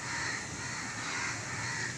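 Several crows caw steadily and loudly at a monkey in a tree, with no talk over the calls.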